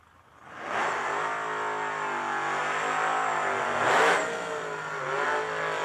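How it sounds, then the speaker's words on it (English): A supercharged Vortec hot rod, a 1989 Ford Mustang, revs and accelerates down a drag strip, its engine rising into a loud, sustained roar with a pitch swell near the end, heard fairly close and alone. "Another supercharged hot rod of the Vortec variety here in the right-hand side of the racetrack"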